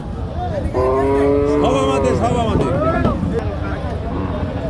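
Thin crossbred and Friesian-cross dairy cows at a busy livestock market in Jessore. A long, loud moo rises and falls over the steady crowd murmur, and people talk nearby.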